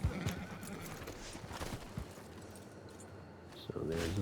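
A horse's hooves clip-clop in Red Dead Redemption 2 as a steady, busy patter under game ambience and some talk.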